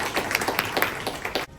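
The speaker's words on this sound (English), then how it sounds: "We should all clap for us." An audience at a Women & Hijab Day event gathering of Pakistani women in Suffolk, New York, breaks into close, lively clapping. The irregular claps run for about a second and a half, then stop abruptly.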